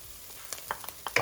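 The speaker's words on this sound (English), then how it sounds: "I've been frying this for approximately 12 minutes" Soft sizzling of chili paste frying in a pan, with a few scraping stirs and light pops, close up, brief and fairly quiet.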